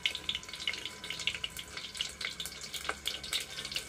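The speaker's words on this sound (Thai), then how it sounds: "ไส้กรอกน่าจะแตกอะน้ำมันก็เลยกระเด็น" Sausages frying in oil in a pan, a continuous crackling sizzle with rapid bright pops and spits of splattering oil, close and fairly loud, no voices.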